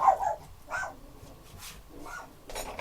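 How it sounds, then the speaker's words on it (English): A dog barks a few times at a distance, separate faint barks spread over a quiet room background. "The dog barks again."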